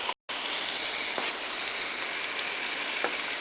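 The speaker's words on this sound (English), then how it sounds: "I'm going to add a 1/2 can of diced tomatoes because at the end of the day, I want my sauce to be chunky" Continuous loud hiss and crackle as half a can of diced tomatoes hits a hot sizzling pan for a chunky sauce, a dense steady sizzle with a few faint pops, close up, no talking.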